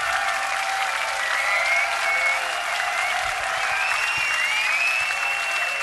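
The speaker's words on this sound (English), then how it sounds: "Thank you for applauding my mental problems." A concert crowd at a show at Montreux in 2005 applauds in a loud, dense, continuous roar of clapping, with whistles and cheers cutting through throughout.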